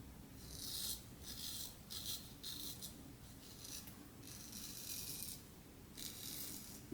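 A Thiers Issard straight razor scrapes against the grain across a face in short rasping strokes, roughly six or seven close, quiet passes with brief pauses between them.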